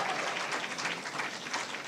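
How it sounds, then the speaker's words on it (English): Steady, dense applause from an audience for six secondary school students at a national school competition, a continuous loud wash of clapping with no break. "Give the students a round of applause"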